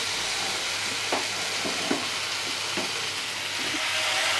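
Pomfret fish pieces sizzling in hot oil in a pan for masala pomfret, a steady close frying hiss broken by several soft splatters and stirring clicks, with no talking.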